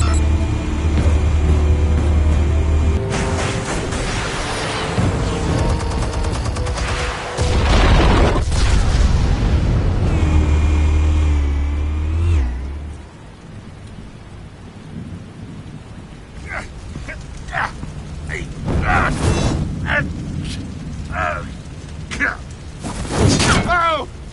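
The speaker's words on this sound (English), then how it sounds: "Explosives armed. Fire when ready." Explosives detonate in a Batman video game, with heavy booming rumbles and crackling debris filling the first half, then scattered sharper bangs and thumps after a quieter stretch.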